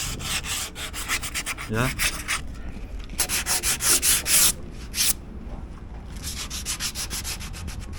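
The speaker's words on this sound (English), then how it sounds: "scuff all the area that hasn't been scratched by the sandpaper." A boat hull surface is scuffed with an abrasive pad, producing loud, close, rhythmic rubbing strokes in bursts with brief pauses, and a voice briefly speaks once.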